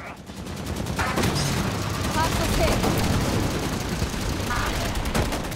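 Rapid, dense gunfire from shotguns and other weapons in the online shooter Halo 5, a loud, sustained burst of overlapping shots that fills the whole stretch.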